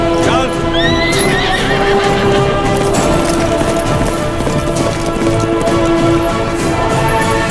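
A horse neighs loudly with a rising whinny near the start, then hooves clip-clop and gallop in a busy continuous rhythm, close and prominent, amid cinematic background sound.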